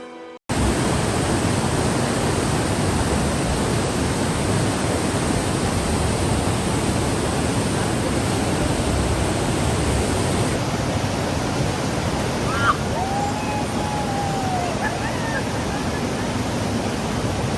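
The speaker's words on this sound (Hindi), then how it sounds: "नीला बहता पानी है और इतने जाहो जलाल है इस पानी में।" A fast-flowing blue mountain river rushes past, making a loud, dense, unbroken roar of water that fills the whole clip.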